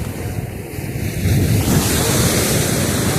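Sea waves wash onto Gavkhadi beach, a broad continuous roar of surf mixed with wind buffeting the microphone, swelling louder partway through.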